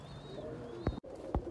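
A pigeon coos low and soft at close range, two short throaty pulses about half a second apart, with faint thin chirps from other birds behind.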